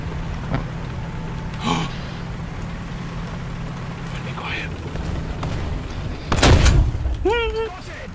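Tank cannon firing in War Thunder realistic battles on the Sinai map, one heavy boom near the end that rolls into a long rumbling tail over a steady engine drone, with players talking around it.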